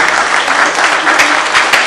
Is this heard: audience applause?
yes